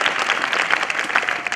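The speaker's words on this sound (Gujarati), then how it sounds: "આપણે તાળીઓના નાદથી આ નાના સંતને વધાવીએ" An audience at a Sharad Purnima gathering at Vadtal applauds, with dense, even clapping heard close and alone throughout.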